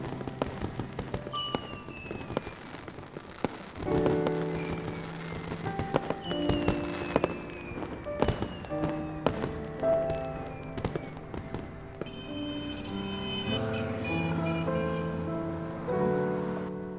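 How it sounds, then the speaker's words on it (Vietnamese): Fireworks explode in a series of sharp bursts and crackles at moderate distance, irregular pops across the whole stretch, with tonal music rising in the later part. "Pháo hoa kìa. Đẹp quá."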